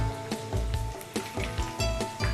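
Chicken pakoras sizzle in hot oil, crackling steadily with a few louder scraping clunks as the fried pieces are lifted out, close and without talk.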